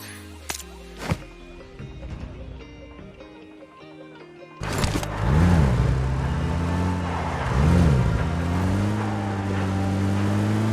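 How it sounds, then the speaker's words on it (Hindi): A vehicle drives in a video game: quiet in-game ambience with a few sharp hits gives way to an engine that starts abruptly and drones loud and steady, its pitch surging up and down as it speeds along. "इसकी गाड़ी उठाकर आगे बंदे पे रश करने के लिए जाते हैं"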